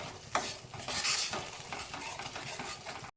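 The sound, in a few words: stirring and frying paneer tikka masala gravy in a pan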